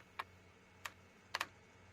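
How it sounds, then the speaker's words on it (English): Keyboard typing sound effect from the indie video game Schastye: a few sparse, faint keystroke clicks, one single tap, another, then a quick double tap, over a low steady hum with no talking. "After swallowing another 2 of the pale mushrooms, I opened Word and started typing the prophecy"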